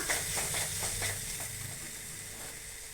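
Bread pieces tossed and stirred into a hot pan with tomato sauce and soy sauce for bread chilli, giving a steady close sizzle with soft rhythmic scraping and stirring throughout.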